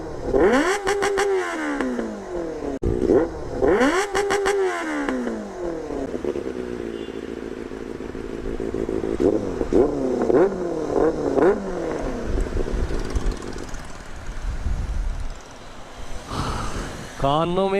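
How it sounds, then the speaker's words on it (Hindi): A Benelli 600GT motorcycle engine revs hard several times in loud, rising bursts with gaps between, the sharp revving repeated through the middle and returning near the end, with some voice sounds mixed in. "कानों में दर्द कर दिया, इतनी खतरनाक साउंड है इस बाइक की।"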